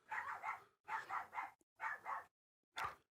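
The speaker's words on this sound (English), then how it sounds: "They can hear the dog." A dog barks in three quick double-bark bursts followed by a single bark, moderately close with short silences between, and no talking over it.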